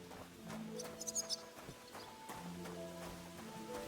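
Horse hooves clip-clopping in the video game Kingdom Come Deliverance 2, a few soft irregular hoof thuds over quiet game music and ambience, with no talking.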